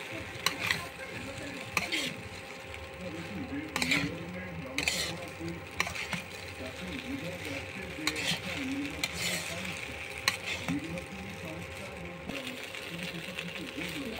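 Chicken pasta simmering and sizzling in a pan, a steady soft frying hiss with occasional stirring scrapes, with faint background voices and household noise.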